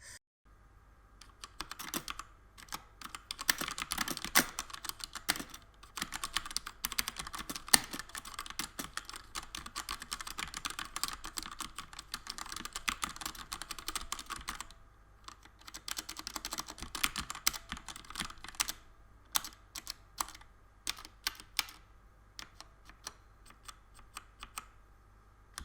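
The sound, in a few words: typing on Cosmic Byte mechanical keyboard with red switches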